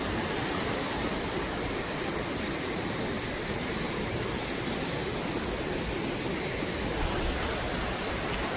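Forceful water rushes steadily through a dam on the Ila river during the monsoon, a loud, continuous broadband roar with no pauses, close and unbroken throughout.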